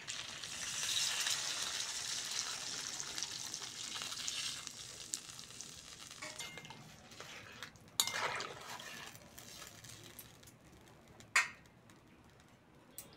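Water is poured into a pan of fried taro and potato, setting off a bright hiss that fades over several seconds. Quiet utensil clinks and a couple of sharp knocks follow, all fairly soft.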